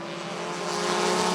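Race cars roar together at the green flag of a bracket heat at Rockford Speedway, a loud, dense engine drone that swells steadily with no voices over it.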